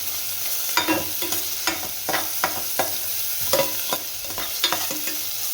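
Onions frying in a pan for a tur dal greens bassaru, a steady sizzle broken by repeated scraping stirs of a spoon against the pan, close and fairly loud, with no talking.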